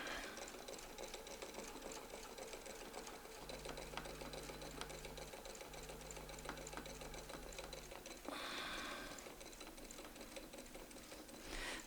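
Domestic sewing machine fitted with a ruler foot stitching a circular quilting wreath, a steady close mechanical whir with fast needle rhythm running throughout, pitch shifting briefly near the end.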